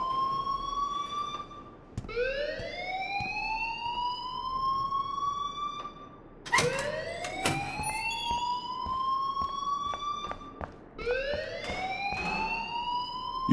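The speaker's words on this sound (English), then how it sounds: "please turn off that alarm since that's your job" An alarm rings inside a school building in the video game Life Is Strange, sounding as repeated rising electronic sweeps, each one climbing in pitch, loud and insistent with brief gaps between cycles and no voices over it.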